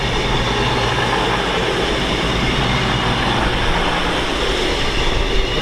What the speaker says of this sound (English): cross-country Voyager arriving now from Manchester Piccadilly on her way to Reading